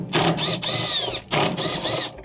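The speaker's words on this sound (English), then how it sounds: "Next, remove the 5 10 millimeter bolts that are holding on the motor." Power ratchet or driver loosening 10 mm bolts from the motor of a Samsung washer that will not spin: three loud, close whirring bursts with brief pauses between, no voices.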